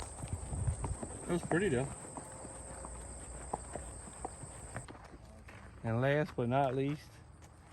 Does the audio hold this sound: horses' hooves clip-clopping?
yes